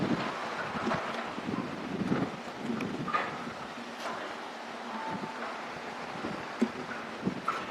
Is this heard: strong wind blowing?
yes